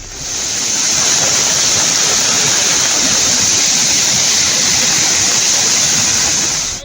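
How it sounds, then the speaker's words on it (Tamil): Monkey Falls waterfall on the Pollachi–Valparai road in flood after heavy rain, a loud, steady roar of rushing water pouring down without pause, close and filling the whole scene with no voices. "பொள்ளாச்சி வால்பாறை சாலையில் உள்ள குரங்கு அருவியில் வெள்ளப்பெருக்கு ஏற்பட்டது."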